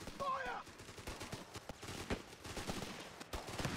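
Rifle grenades and gunfire in the Company of Heroes 3 strategy game, a rapid spatter of shots and bursts at moderate level, with speech and short exclamations woven through the battle noise.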